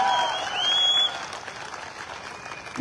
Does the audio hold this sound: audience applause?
yes